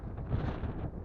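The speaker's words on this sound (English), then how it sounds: "Very windy." Strong wind buffeting a microphone outdoors while a 3DR Solo drone is flown: a continuous low, rough rumble with gusty swells and no voices.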